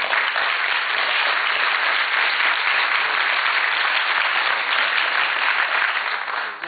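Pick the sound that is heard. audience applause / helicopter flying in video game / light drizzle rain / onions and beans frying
audience applause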